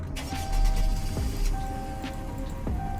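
Startup of a 2013 Bullhorn Prancer Sheriff police car in Roblox Greenville, a steady low engine rumble that swells early and settles into an even idle, with a few faint clicks over a constant hiss.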